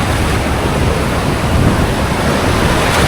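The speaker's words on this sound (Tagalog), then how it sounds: "Ang lakas ng alon kaya walang mga water activities talaga." Strong surf pounds a Boracay beach at low tide under an overcast sky, a steady, loud wash of breaking waves with wind buffeting the microphone throughout, no voices.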